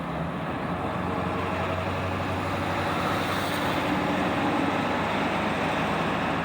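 A 7.3 Powerstroke diesel truck towing a 16,000-pound trailer drones with a steady, dense engine and road rumble heard from inside the cab, continuous and fairly loud without clear gear-change breaks and no talk.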